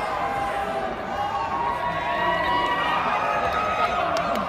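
A wrestling arena crowd at an NXT show in Las Vegas roars and cheers in a continuous dense wash of voices, with a commentator talking over it.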